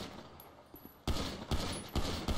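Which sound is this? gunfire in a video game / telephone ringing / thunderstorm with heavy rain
gunfire in a video game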